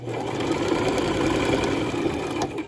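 A sewing machine runs steadily while stitching a cloth face mask with adjustable ear loops, a fast continuous whirring chatter close up, with no talk.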